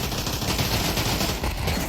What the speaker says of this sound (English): A lot of gunfire here and there.